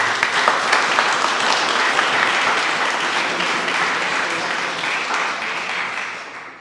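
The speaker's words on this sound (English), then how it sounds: "So a big round of applause to you all for your commitment of being here tonight." Audience applause at a community meeting in Reading where the mayor gathers input on $61M American Rescue Plan Act funds, a steady, dense round of clapping from a roomful of people that slowly fades toward the end.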